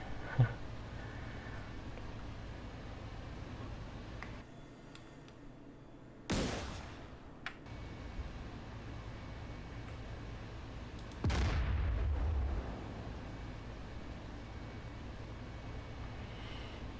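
A tank cannon in the DCS Combined Arms combat simulator fires long-range shells. Several heavy, booming shots stand apart, each a sharp blast with a rumbling decay, against a low engine hum. No one speaks.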